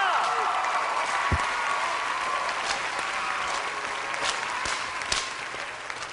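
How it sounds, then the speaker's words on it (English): A talent-show crowd applauds steadily, a dense wash of clapping that holds at an even level from start to finish. "give me a lot of applause here"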